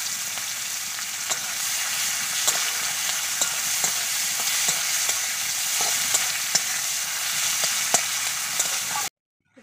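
Chopped onions go into hot oil already tempered with whole cumin, frying with a steady loud sizzle broken by regular spatula scrapes while being stirred, ending abruptly; no talk.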